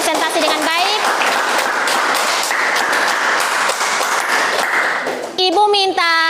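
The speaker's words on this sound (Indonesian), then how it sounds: "tepuk tangan untuk teman-teman karena sudah presentasi dengan baik" Students in a classroom applaud their classmates' presentation with sustained, lively clapping, while a voice cuts in at the start and again near the end.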